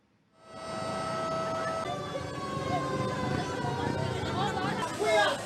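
Several fire engine sirens wail continuously at a house fire on Jalan Asia Indah in Medan, holding a steady, fairly loud wavering tone with other street noise underneath.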